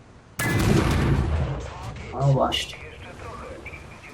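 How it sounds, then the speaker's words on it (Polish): A Soviet IS-2 heavy tank in the War Thunder video game fires its powerful cannon once with a loud, booming blast that rumbles away, while someone talks over and after the shot. "To jest naprawdę potężna, potężna armatka."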